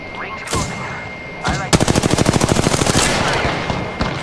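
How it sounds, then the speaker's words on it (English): Gunfire in the game Apex Legends: a couple of single shots, then a fast automatic burst of about twenty rounds lasting over a second, loud and close over ambient game noise. "Opening fire."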